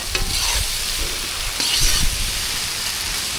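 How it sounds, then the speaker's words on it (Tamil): Spices being stirred into a cooking pan: garam masala, chili powder, asafoetida and turmeric. Steady scraping and sizzling runs throughout at moderate, constant loudness, with no talk. "கரம் மசாலா, மிளகாய் தூள், பெருங்காயத்தூள், மஞ்சள் தூள் எல்லாம் சேர்த்து கலந்து விட்டுக்கலாம்."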